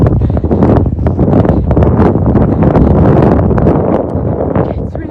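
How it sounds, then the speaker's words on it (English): Strong wind on a cold morning buffets the microphone outdoors with loud, continuous gusty rumbling that runs unbroken throughout. "it's really windy and cold this morning."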